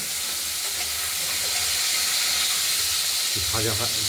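Potatoes fry in tempering oil, a continuous loud hiss and sizzle, close up, with a brief voice near the end.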